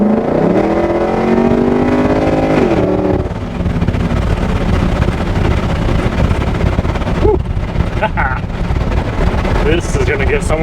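A 1949 Ford F-1 restomod truck accelerating hard, a loud close engine roar rising in pitch through the gears for a few seconds before easing off into rumbling and wind noise.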